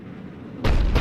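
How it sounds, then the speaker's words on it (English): A heavy cannon in the Mass Effect 3 video game fires once with a sudden loud boom that stays strong to the end, after a quiet stretch of low background rumble. "Looks like Cerberus got that cannon operational, Commander."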